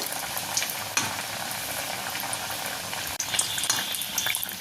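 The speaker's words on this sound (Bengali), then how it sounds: "তেল গরম হয়ে গেছে, এবার আমি ফ্রাইটা নিয়ে নিই।" Vetki fish fry, Kolkata style, frying in hot oil: a steady, dense sizzle that carries on close and fairly loud, with a brief sharper crackle near the start and a short dip before the bubbling resumes.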